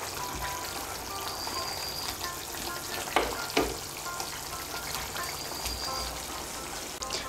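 Fish curry with cauliflower and garam masala is stirred in a sizzling pan, giving a constant close frying hiss broken by a couple of sharp spoon scrapes midway.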